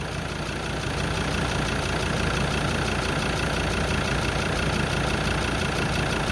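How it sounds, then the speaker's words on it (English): A car engine idles steadily after being switched on, a constant low rumble with a faint knock, close and unbroken for the whole stretch with no talk. "I've just turned my engine on"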